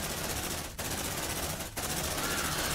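Turret gunfire in Aliens Dark Descent: loud, rapid automatic bursts forming a dense continuous rattle, broken by two brief gaps before resuming at full intensity.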